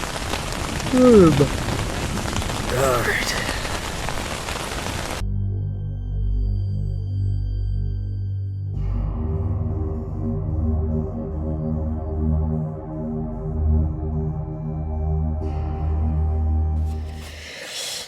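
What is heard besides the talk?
thunderstorm with rain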